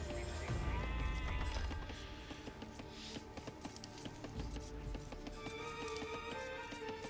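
Sheep bleat in the strategy video game Age of Empires II amid a busy layer of in-game unit sounds, tapping effects and clip-clopping hooves.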